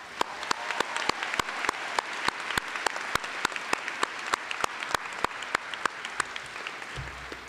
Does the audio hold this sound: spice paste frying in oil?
no